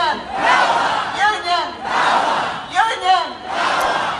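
Thousands of union protesters at a rally in Auckland's Aotea Square raise a loud, rolling chorus of shouts and chants. The sound comes in swelling waves with short lulls between them.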